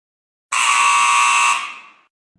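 A quiz show answer buzzer sounds once, a loud, harsh electronic tone lasting about a second before trailing off, alone against silence.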